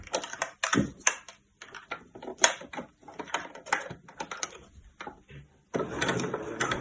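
A sewing machine stitches the base of a fabric weekender bag, with short bursts of rapid mechanical ticking separated by pauses, then a steadier continuous run at the end, close and clear.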